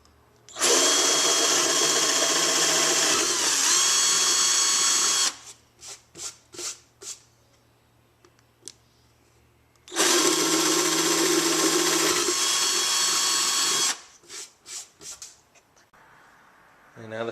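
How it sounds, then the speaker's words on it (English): Power drill boring holes through a motorcycle seat on a Honda CB200 cafe racer build, two long steady high-pitched whirring bursts of about four seconds each, separated by short clicks and quiet handling noises. "We're going to very carefully drill them out."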